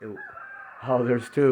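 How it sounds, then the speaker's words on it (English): A rooster crows close by in a couple of bursts, loud and harmonic, while someone says a few words between the calls. "Did you hear the rooster crow?"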